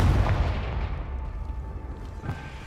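A Confringo blasting spell cast in Hogwarts Legacy, heard as a loud, booming explosive burst that opens the clip and rumbles away, with a second smaller crack near the end.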